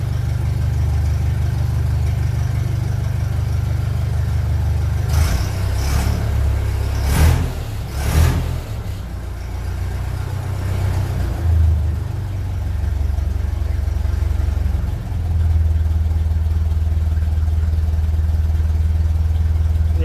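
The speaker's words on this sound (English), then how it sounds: "when the engine is cold, you can't expect it to tick over straight away" A cold 1957 Ferguson 35 tractor running on TVO idles unevenly, a steady low chug with a few sharp knocking bursts partway through before settling back to a constant tick-over.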